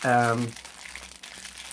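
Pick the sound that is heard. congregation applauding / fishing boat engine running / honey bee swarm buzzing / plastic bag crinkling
plastic bag crinkling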